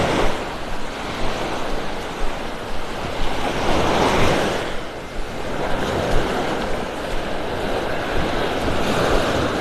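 Ocean surf rolling onto a beach in North Naples, Florida at low tide, a steady broad wash of breaking waves with swells peaking around the middle, mixed with wind buffeting the microphone, no voices.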